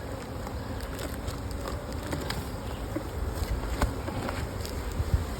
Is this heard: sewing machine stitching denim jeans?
no